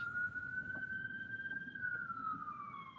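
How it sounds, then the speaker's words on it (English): An ambulance siren wails steadily in Manhattan traffic on 44th Street, a long sweeping tone that holds and then slowly falls in pitch, fairly faint and distant over low street rumble. "there's an ambulance coming"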